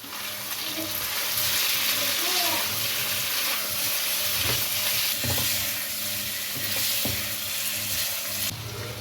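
Potato and cauliflower with coriander, cumin and garam masala being stirred in a hot pan, a steady sizzle and frying hiss with scraping spoon strokes and occasional clacks against the pan.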